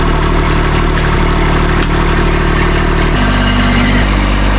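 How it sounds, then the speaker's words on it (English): A tractor engine runs at a steady idle, loud and close, with a constant low rumble and no voices over it. "we're going to start the tractor and we're going to pull away"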